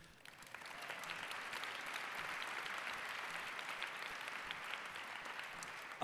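A party conference audience applauds steadily in a large hall, a dense and sustained wash of clapping with some cheering mixed in and no speech over it.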